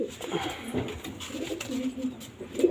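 Soft coos from a female pigeon murmur close by, low and repeated, with a bit of other rustling and faint voice-like sounds mixed in.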